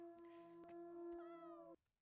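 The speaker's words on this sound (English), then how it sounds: "I heard a kitty" A cat meows once in the video game Banebush, a clear, sustained tonal cry lasting over a second that bends slightly upward before cutting off, alone and fairly close.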